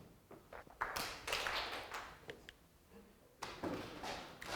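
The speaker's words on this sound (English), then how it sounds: "clap hands or tap your thighs" A lecture audience at Oxford taps on thighs and claps hands together in a loose, uneven patter of soft thumps and slaps, pausing briefly before swelling again near the end.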